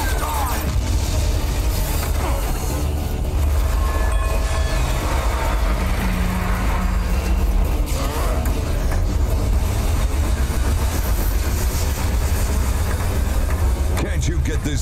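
A moving train in a Duke Nukem video game gives a continuous loud rumble and rattle that carries on throughout, mixed with game sounds and voices speaking over it.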